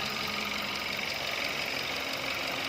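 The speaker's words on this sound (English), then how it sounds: "We got the cooling fan there running." A 2.0L GDI engine from a 2013-2020 Kia Rondo or Hyundai Elantra idles with a continuous whirring, rapid knocking rhythm, steady and close, with the cooling fan's hiss running underneath.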